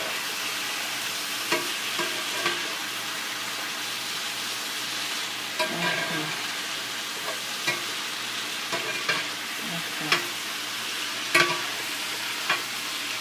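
A pot of ackee and saltfish boils and sizzles steadily on the stove, a continuous bubbling hiss broken by occasional clinks and stirring knocks.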